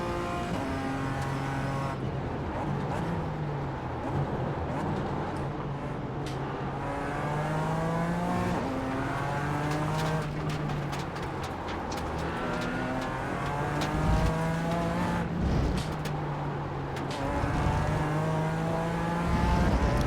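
Race cars, including a BMW, on the Mugello circuit make loud, continuous engine roar with rising and falling revs as several cars pass close by, heard alone.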